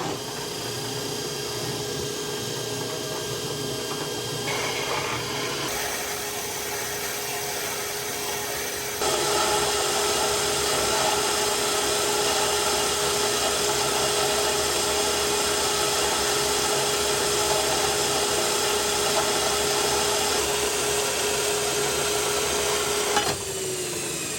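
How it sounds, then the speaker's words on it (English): A 67-year-old Wells band saw cuts through 3/16-inch steel plate, a steady loud mechanical whine and grinding hum running throughout, rising in intensity partway through as the blade bites, then easing near the end. "cutting some 3/16 plate here. I gotta make some hinges for a gate."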